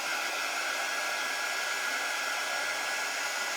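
A hair dryer blows steadily on a freshly painted craft project that was waxed before painting, a loud, continuous close-up whoosh with a faint high whine running unbroken throughout.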